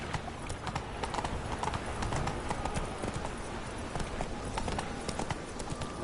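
Roach, the horse in the video game Witcher 3, gallops with rapid, continuous clip-clop hoofbeats heard close and steady throughout, with no voices.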